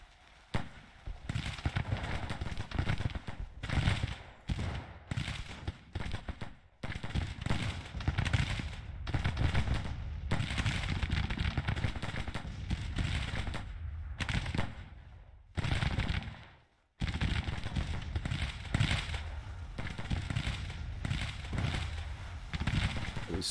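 Confederate artillery battalion in the Grand Tactician: The Civil War battle fires repeatedly, a dense string of booming shots and crackling gunfire with brief gaps between volleys, loud and sustained with no voices.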